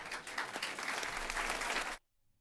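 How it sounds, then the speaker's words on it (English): Canned applause from a sound effect: a dense, steady burst of clapping and cheering plays for about two seconds, then cuts off abruptly into near silence. "The applause is only canned"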